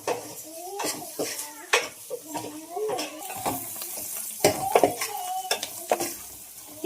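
Spoon or spatula scraping and clinking through onion, green chilli, curry leaves and homemade sambar powder in a metal pan, with a faint sizzle under the irregular close stirring strokes and no talk.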